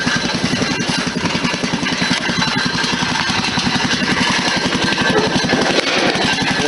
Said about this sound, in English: As you can hear, there's a baffle and the muffler rattling around.